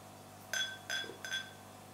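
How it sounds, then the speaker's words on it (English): Wild Thing imperial stout being poured into a glass, heard as three short bright glassy clinks in quick succession, close and fairly quiet, with no talking. "We'll pour it in a glass for you."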